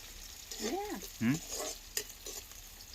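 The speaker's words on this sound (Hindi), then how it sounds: "लहसुन डाल दी थोड़ा अच्छा से फ्राई होने दे" Garlic fries in a pan for a Chhattisgarhi phatka dish with chilli and fenugreek, a low steady sizzle under brief voiced sounds and a sharp stirring knock near the middle.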